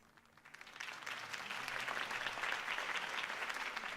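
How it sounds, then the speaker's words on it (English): A crowd at a political rally in Telltale's Batman video game breaks into applause, swelling in quickly from quiet to a sustained, even clapping that stays moderately distant. "If only Mr. Wayne, my campaign's largest backer, could have heard that applause"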